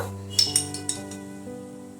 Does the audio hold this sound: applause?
no